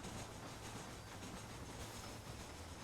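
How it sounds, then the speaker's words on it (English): Steady rumbling train noise from Red Dead Redemption, a continuous broadband roar with rhythmic low thumps like wheels on track, loud and unbroken with no talk. "Horses definitely outrunning a train."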